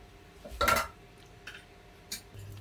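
A metal pot for a no-bake turrón flan set down on the stove, one sharp clank with a brief rattle, then a lighter clink moments later in a quiet kitchen.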